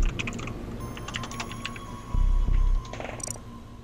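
Typing on a computer keyboard hooked up to an Xbox Series X, with bursts of light clicking keystrokes scattered through the stretch and a couple of louder thumps near the middle, close by, with no speech.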